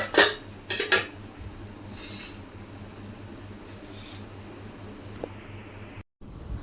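Plates and cutlery clink during a home meal of rice, dal and fried egg: a few sharp scrapes and taps near the start, then quieter scattered rubbing under a low steady hum.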